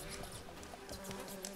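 Bees from The Witcher 3 buzzing in a faint, continuous hum with fluttering wing-like texture, no talking.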